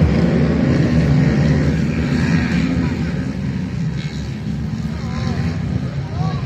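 250 cc supermoto motorcycles racing on a local circuit, a dense, loud rumble of engines with rising whines from passing bikes, under a commentator's continuous talk.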